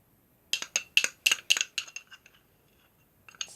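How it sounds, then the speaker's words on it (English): A spoon clinks and taps against a jar or bowl as peanut butter is scooped into satay sauce: a quick run of bright, sharp chinks close up, then a short pause and a few softer clicks. "It's the peanut butter going in."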